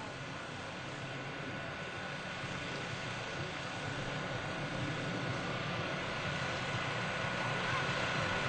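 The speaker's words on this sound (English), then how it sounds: "They performed a very difficult 5-plane line abreast loop." US Navy Blue Angels jets flying a five-plane line abreast loop at a 2002 NAS Oceana airshow, a steady distant roar of jet engines that holds level throughout.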